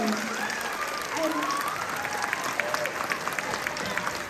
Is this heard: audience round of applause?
yes